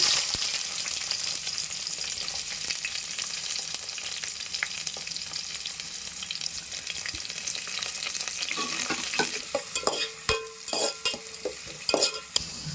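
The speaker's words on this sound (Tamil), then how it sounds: "எண்ணெய் ஊற்றிக்கலாங்க. பட்டை மட்டும் போட்டுக்கலாங்க. கருவேப்பிலை போட்டுக்கலாம்." Cinnamon and curry leaves fry in hot oil for a non-veg dalcha, giving a steady close sizzle that turns busier near the end with scattered stirring clicks and scrapes.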